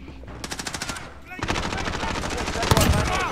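Automatic gunfire in Call of Duty Modern Warfare, Moshpit mode, a light rapid burst followed by heavier sustained machine-gun fire with a sharp crack near the end, close and loud.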